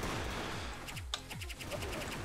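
Gunfire in a video game: rapid bursts of automatic shots rattle in quick succession, with a few louder single cracks in the middle, steady and close.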